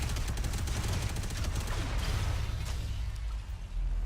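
Dense, rapid gunfire from the Robocraft video game rattles continuously for a few seconds before thinning out, with heavy low rumble underneath.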